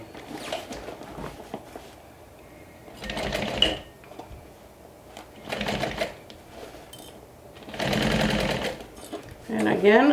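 A sewing machine stitches down a quilted fabric bag in several bursts of rapid mechanical whirring, separated by short quiet pauses, close and clear with no talking.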